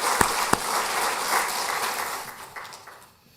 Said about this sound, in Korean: 우리 하나님 앞에 다시 한번 영광의 박수 올려드리겠습니다